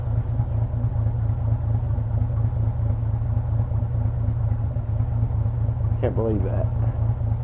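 A diesel-swapped Ford Econoline van sits idling with a steady, even low rumble throughout, and someone speaks briefly near the end.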